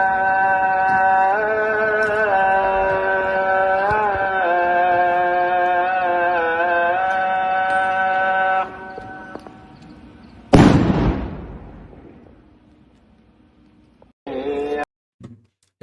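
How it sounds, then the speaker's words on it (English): Inside a West Bank mosque, a sung call to prayer holds long wavering tones, then stops. A single loud, sharp stun grenade blast follows, with a fading rumble, and a brief burst of voice comes near the end. "an Israeli soldier threw a stun grenade into a mosque as the call"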